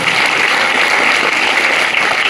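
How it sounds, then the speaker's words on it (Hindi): Loud, dense applause welcoming a vice principal at a school farewell party, sustained evenly across the short stretch with no speech. "जोरदार तालियों के साथ इनका भी स्वागत।"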